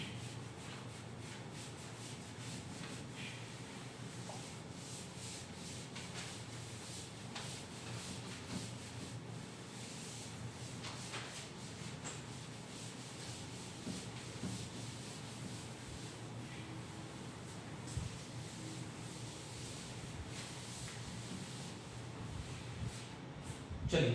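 Steady scratchy rubbing of a duster wiping writing off a classroom board during a Class 9 maths lesson, continuous and close for about twenty-four seconds with no talk.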